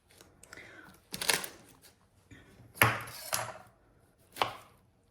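A knife cuts through soft roasted aubergine, giving four quiet, separate chopping taps against a board at uneven intervals with silence between them.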